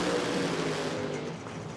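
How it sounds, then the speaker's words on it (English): A naturally aspirated dragster engine at a Queensland drag racing championship, no supercharger, roars as a loud, steady, sustained engine blast that eases slightly toward the end, heard from a distance across the track. "No supercharger, just running pop in it. Listen to that thing."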